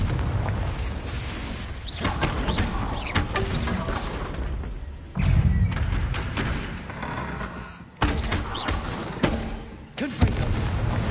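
Confringo blasting-spell explosions in the video game Hogwarts Legacy, a string of heavy booms and crackling blasts in bursts with short gaps, loud and close amid combat noise.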